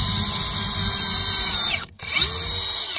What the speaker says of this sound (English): You're going to drill a pilot hole.